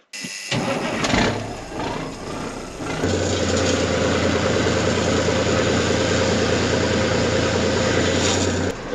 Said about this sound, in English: Okay, so we're gonna fire up the tender truck.